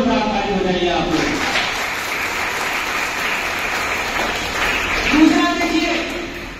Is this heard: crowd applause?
yes